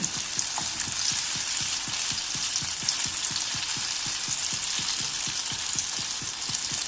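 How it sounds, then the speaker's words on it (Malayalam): Breadcrumb-coated ripe banana snack frying in oil over a medium flame, a steady bright sizzle with a regular beat of soft stirring or turning strokes throughout, close and alone with no talking. "ഈ ഒരു മീഡിയം ഫ്ലെയിമിൽ വെച്ചാൽ മതി. നമുക്കിതൊന്ന് മറിച്ച് നോക്കാം."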